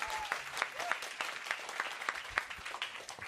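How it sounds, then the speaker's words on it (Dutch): An audience at a live book presentation claps for an author, a moderate steady applause with individual hand claps audible, fairly quiet and without talk. "Even een applaus."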